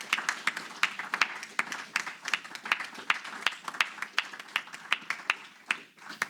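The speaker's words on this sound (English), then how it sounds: "A round of applause for Hazel and Graham." A small audience at an astronomy association meeting claps, distinct individual claps in a fairly steady rhythm that thin out slightly toward the end, with no voices over them.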